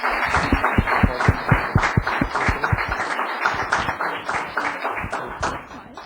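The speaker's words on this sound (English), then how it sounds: "let's give these two ladies a round of applause." Applause at a Los Gatos town council meeting: a small group claps in brisk, fairly even rapid claps that hold steady for several seconds, then thin out and soften near the end.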